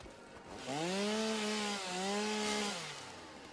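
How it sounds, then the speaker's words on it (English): A chainsaw in the video game Satisfactory revs and bites into wood, a single sustained buzzing cut that rises, dips briefly midway, then winds down, heard alone and fairly close. "Because I'm in a chainsaw state of mind."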